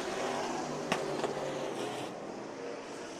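Race cars circling a dirt speedway at Bakersfield, heard as a distant broad engine roar and track noise, steady and fairly faint throughout.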